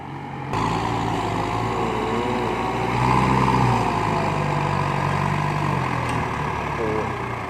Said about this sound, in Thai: ให้รถไถรันกันครับ